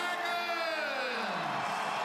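Young fans in Wollongong cheer the St George team after its 2010 NRL premiership win, a steady, dense crowd roar with whoops and shouts rising above it and no break throughout.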